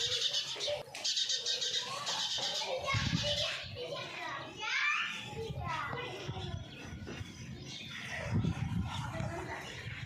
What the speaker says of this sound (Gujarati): પક્ષીઓ પણ આવવા મળ્યા છે પાણી માટે